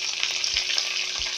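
Garlic and shallots fry in a pan with a loud, steady sizzle close up, and a couple of soft stirring thumps. No one speaks.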